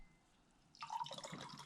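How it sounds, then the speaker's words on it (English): Hard seltzer pours into a glass after a quiet pause, a close, bright splashing and fizzing trickle that starts abruptly and keeps going. "I'm going to pour a little into each glass here"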